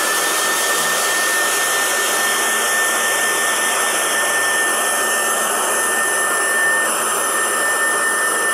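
A hair dryer blasts nonstop while drying paint on a wooden coat rack, a loud, even, close-up roar with a high whine that holds steady throughout with no talking.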